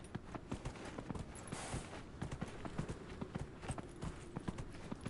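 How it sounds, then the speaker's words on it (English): Horse hoofbeats in Dragon Age Inquisition, a quick, steady clip-clop of a ridden horse at a trot or canter, moderately faint and alone. "Ride the horse."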